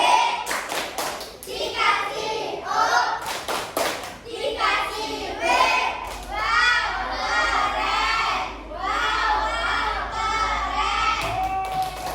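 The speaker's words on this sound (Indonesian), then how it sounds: "kita kasih tepuk wow untuk kelompok Akobeh. Tepuk wow." A school class performs the rhythmic 'tepuk wow' clapping chant, bursts of patterned hand claps mixed with children chanting in unison, loud and close, repeating in rounds for several seconds.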